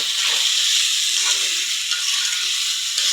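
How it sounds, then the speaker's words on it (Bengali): Vegetable curry sautéing in a pan, a steady bright sizzle and hiss that stays continuous and fairly loud, with faint stirring scrapes and no talking. "এই যে আমি তরকারিটা কষাই নিচ্ছি"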